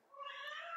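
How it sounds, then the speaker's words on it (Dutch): A cat meows in the background, one drawn-out, fairly faint cry lasting under a second in an otherwise quiet indoor room. "Je hoort een kat op de achtergrond mouwen."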